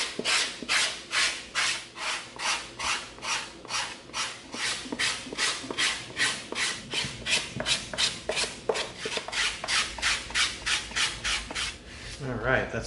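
An EVA foam cleaver prop is sanded with 80 grit sanding sticks, giving a steady run of rhythmic raspy rubbing strokes, about two per second, close and fairly loud throughout.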